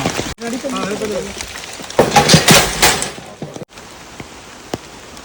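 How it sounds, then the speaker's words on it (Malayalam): Heavy rain pours down steadily while forest officials set up a cage after a leopard sighting at Pakkandam, with voices talking over the downpour and a brief loud burst midway. "ശക്തമായ മഴയായിരുന്നു"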